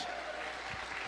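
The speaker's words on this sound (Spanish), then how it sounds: "El aplauso al Señor." Applause fills a church service, a brief, dense and even patter of many hands clapping together from a congregation.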